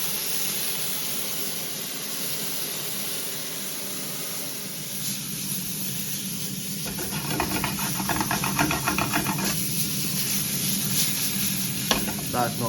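A steak sears in a hot pan at home, giving a steady loud sizzle and hiss, with bursts of scraping and stirring joining in partway through. No talking.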